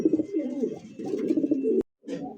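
A Lahori pigeon coos close by in deep, rolling throaty phrases, one long call breaking off, then a short coo after a brief pause.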